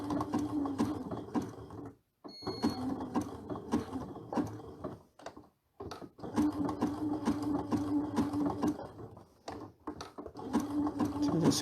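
A sewing machine stitches a dimensional appliqué toward an inside corner, its needle chattering in steady, rhythmic runs broken by a few brief pauses.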